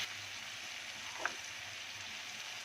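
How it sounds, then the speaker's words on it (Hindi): Spices for a fish curry masala frying in a pan give a faint, even sizzle throughout, with one brief clink near the middle. "ज़बरदस्त तरीके से फ्राई हो रहे हैं हमारे मसाले"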